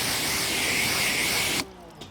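A steady, loud hiss of a pressure washer spraying a ceramic-coated car for about a second and a half, then cutting off abruptly into near quiet.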